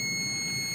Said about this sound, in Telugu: బీప్ సౌండ్ వస్తుంది.